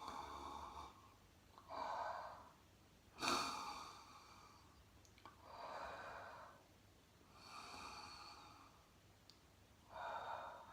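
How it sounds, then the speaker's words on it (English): Slow, deep breathing during a ritual, with long hushed exhales and inhales in a steady cycle, close and soft, with no talk. "put them over and breathing 3 times"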